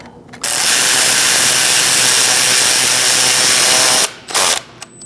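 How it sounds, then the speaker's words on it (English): A power drill or impact tool runs steadily for about four seconds, tightening a bolt on a knock sensor of a 2008-2014 Mercedes-Benz C300 3.0L V6, then stops and gives two short bursts. "Secure it with your bolt. We're going to tighten that up."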